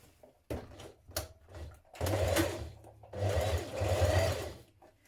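Sewing machine stitching a bar tack on trousers, close and clear, with a few short clicks, then two sustained whirring runs of rapid stitching separated by a brief pause, no talking.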